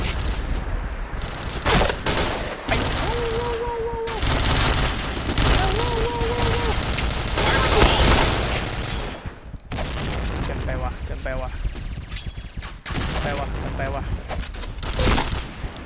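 Bursts of video game gunfire and booming grenade explosions crash in rapid succession, loud and dense, with someone talking excitedly in Thai over the action.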